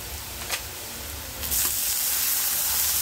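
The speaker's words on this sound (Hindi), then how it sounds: "अभी डालना है थोड़ा सा कांदा, इसको फ्राई कर लेना है" Chopped onion frying in a pan with oil after dried chillies, for a kalmi greens dish, a steady close sizzle with faint stirring scrapes, loudening slightly partway through, no voices.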